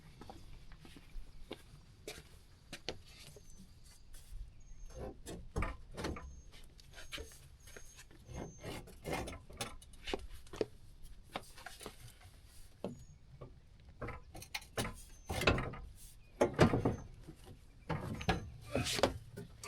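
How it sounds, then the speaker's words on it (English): A ratchet removing bumper bolts on a 2016 Chevy Silverado 2500 HD, bursts of clicking and clanks of tools and metal at close range, uneven and intermittent, louder knocks toward the end, no talking. "So I'm going to take all 4 of these bolts out, and then we'll slide this bumper off."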